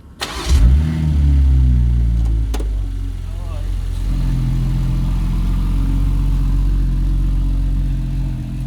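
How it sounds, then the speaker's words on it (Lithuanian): A Morgan sports car fitted with a 3-litre, 250 kW BMW engine driving the rear wheels through an automatic gearbox starts up with a brief rev, then settles into a steady, close, loud idle. "kapotu yra 3 litrų 250 kW BMW variklis, kuris per automatinę pavarų dėžę suka tik galinius šio automobilio ratus"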